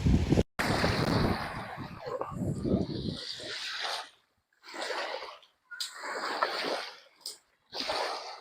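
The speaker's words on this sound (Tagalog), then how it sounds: "Medyo hangin." Gusty wind buffets the microphone in rumbling bursts, broken by brief quiet gaps, with someone speaking over it near the start.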